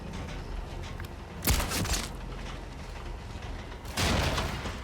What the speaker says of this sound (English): Must be close by because I heard a gunshot.